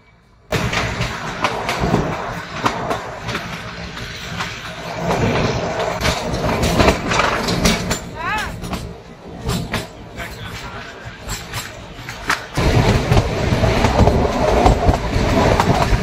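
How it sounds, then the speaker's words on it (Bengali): The Kalka–Shimla toy train rolling along its narrow-gauge rails, a continuous loud rumble with rhythmic clickety-clack and some brief wheel squeal, heard from on board and steady to the end. "এই ট্রেন যে সমস্ত স্টেশনে দাঁড়াচ্ছে"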